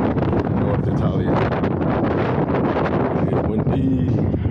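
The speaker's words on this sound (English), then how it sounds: "It's windy." Steady, heavy wind buffeting the microphone, a constant roaring rumble that never lets up across the whole stretch.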